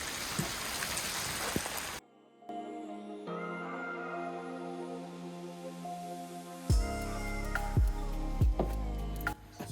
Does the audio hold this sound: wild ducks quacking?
no